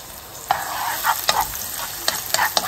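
Garlic frying in hot oil in a pan, a steady close sizzle broken by several sharp scraping stir strokes, with no voices.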